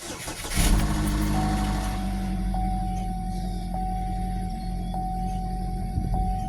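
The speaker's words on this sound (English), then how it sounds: "now we're going to start the car" A 2015 Buick Verano cranks and fires after an exhaust cam sensor change, then settles into a steady idle while a faint warning chime repeats at regular intervals.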